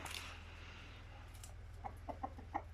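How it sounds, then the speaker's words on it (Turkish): Domestic chickens give a few short, soft clucks near the end, spaced irregularly over a low steady background hum, with no one talking. "Tavuklar da var."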